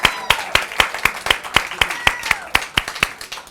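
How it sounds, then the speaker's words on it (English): A crowd at a Juneteenth celebration clapping in a steady, rhythmic unison beat, sharp evenly spaced claps with faint voices underneath. "Let's give it another round of applause for Juneteenth and our black people"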